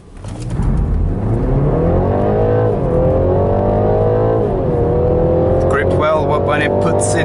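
A BMW G20 330e accelerates hard, its engine note rising loudly and steadily, easing briefly around a gear change, then climbing again, with some high chirping noises near the end.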